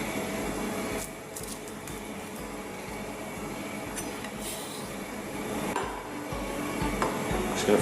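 Close-up, the blade taps against the board repeatedly as shallots are finely sliced, a dense, rapid, fairly steady patter under a constant background hiss with no talking.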